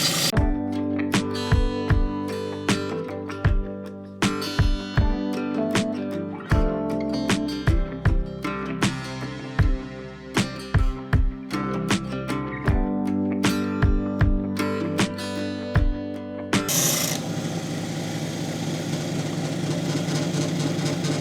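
A lapidary polishing wheel hums steadily while a petrified wood rock sample is worked on it. Sharp clicks come at regular intervals, and a harsher rushing wash takes over near the end.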